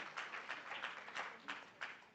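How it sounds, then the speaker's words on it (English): Scattered applause from a small conference audience honouring an award recipient at an arbitration week event in Nairobi, a thin, fairly soft patter of individual claps with audible separate hand strikes. "Please, let's give him a round of applause."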